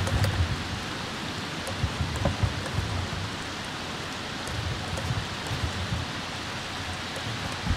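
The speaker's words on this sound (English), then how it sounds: "it's raining outside, so I'm not letting them out." Steady rainfall in The Sims 3, a continuous soft hiss with scattered drop ticks, moderately quiet and unbroken, with no voices over it.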